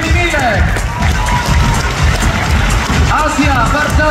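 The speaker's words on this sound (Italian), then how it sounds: "L'applauso per l'Under 13 femminile" An indoor crowd at a volleyball event applauds an under-13 girls' youth volleyball team, steady dense clapping and cheering under loud background chatter and voices throughout.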